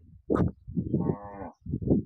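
A Gir cow on a large farm moos several times in close succession, deep and loud, one call stretching into a longer drawn-out low with short pauses between.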